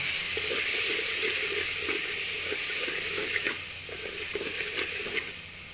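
Half a tomato and four green chilies sizzling in a pan of frying onions for aloo matar, a steady bright hiss with soft intermittent clicks and stirring taps, fairly close.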